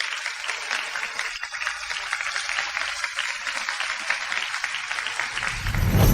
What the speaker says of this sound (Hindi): कृपया खूब तालियां बजाएं हमारे दोनों जोड़ों को बधाई देने के लिए